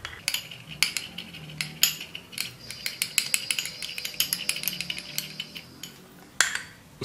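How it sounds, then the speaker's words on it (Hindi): A spoon clinks and scrapes against a small bowl while turmeric and coconut oil are stirred into a face paste, giving irregular sharp taps and clicks at close range. "आपको इन सारी चीजों को अच्छे से जो है मिक्स कर लेना है"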